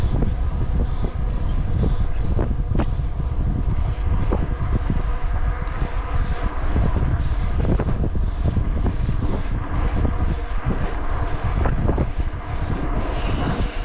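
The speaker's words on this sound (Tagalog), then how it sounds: "Ang lakas ng hangin." Strong wind buffeting a motorcycle on a solo ride through Salman City, Bahrain, a loud continuous roar with gusting rumble and engine drone throughout, no talking.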